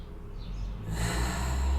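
A long nasal inhale during a root chakra meditation, a soft airy rush that swells and grows fuller toward the end, close and alone with no talking.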